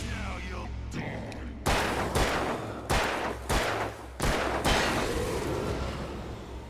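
Gunshots crack in the game Alan Wake, a series of about five loud, sharp reports at irregular intervals, each with a booming tail, over a low rumbling background.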